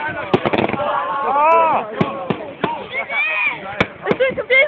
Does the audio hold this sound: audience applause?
no